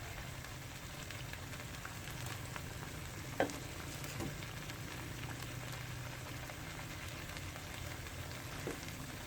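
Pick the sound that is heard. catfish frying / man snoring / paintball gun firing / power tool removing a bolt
catfish frying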